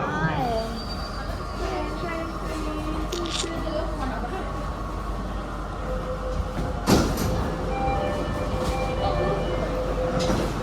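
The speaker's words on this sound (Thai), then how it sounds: "นั่งรถไฟฟ้า MRT มาทั้งหมด 13 สถานีค่ะ" Steady rumble and rattle of a new MRT metro car in motion in Indonesia, with a continuous low drone and a brief louder clatter partway through.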